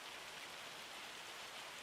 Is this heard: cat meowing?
no